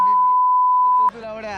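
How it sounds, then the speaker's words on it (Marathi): A censor beep added during editing, one loud steady tone held for about a second, then a voice talking right after it. "बिप टाकेन."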